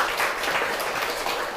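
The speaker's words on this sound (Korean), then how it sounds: "우리 하나님 앞에 영광의 박수 한번 돌리겠습니다" Steady applause from a church congregation during Sunday worship fills the space, a dense continuous patter of many hands clapping at moderate volume.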